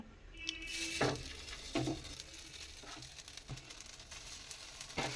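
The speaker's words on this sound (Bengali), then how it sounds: "আর এই দেখো আমি ঘি দিয়ে ভাজবো" Pieces of food frying in ghee in a pan give a steady close sizzle, with intermittent stirring knocks and scrapes spaced through it.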